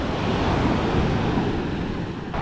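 Sea waves on Devbagh-Tarkarli beach in Malvan roll in as a steady, loud, broadband surf wash with some wind noise on the microphone, continuous throughout with no voices.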